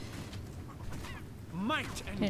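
An undead chicken in a fantasy video game gives a short, loud clucking squawk near the end, following a stretch of muffled game background noise with some speech-like sound.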